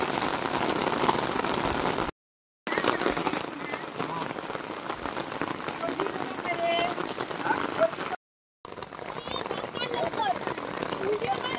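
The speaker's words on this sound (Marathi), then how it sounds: "पाऊस तर वाढत चालला आहे, काय भरपूर पाऊस वाढतो आहे." Heavy monsoon rain pours onto flooded rice paddy fields in the Konkan countryside near Vaibhavwadi: a dense, steady hiss of drops on water and ground that fills the whole scene, broken by two short silent cuts.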